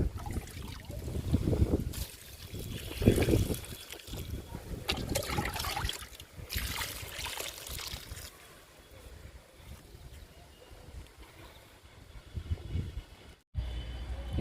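Liquid fertilizer is poured onto a potted plant, giving an uneven, trickling splash and watery rushing against a noisy outdoor background for over a dozen seconds, with brief lulls.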